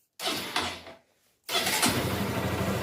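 Honda Shine motorcycle with a starting problem cranks and fires, a loud burst of engine noise, a brief near-silent pause, then the engine catching and running steadily close by.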